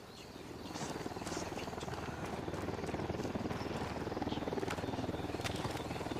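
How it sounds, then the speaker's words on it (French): A helicopter in the Ghost Recon video game draws steadily closer, its rotor chop a continuous rapid thrum that swells from quiet to a loud, sustained beat with no talk over it. "Hélico de l'Unidad en approche."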